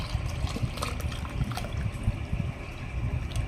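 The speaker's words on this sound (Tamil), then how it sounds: "சர்பத் நான் ஆட் பண்ணிக்கிறேன்" Sherbet syrup, a bael-flavoured one, being poured into a glass of tender coconut water with lemon and basil seeds, a short, close, uneven liquid trickle and splash with no talk.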